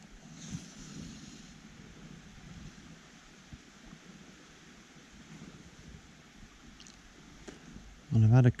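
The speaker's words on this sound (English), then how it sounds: "A bit of a downstream wind keeps popping up out of nowhere all the time" A downstream wind blows by a river during trout fishing, a steady low rumble and buffeting on the microphone throughout, with a loud gust at the very end.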